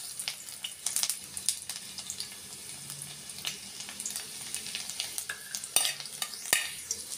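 Garlic and cumin fry in a pan with a steady, fairly faint sizzle, broken by light clinks and scrapes of stirring, no talking.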